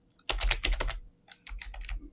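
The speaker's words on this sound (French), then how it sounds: "je vais taper" Typing on a computer keyboard to enter text in a 3D design program, two quick bursts of close, crisp keystrokes separated by a short pause, with no talking.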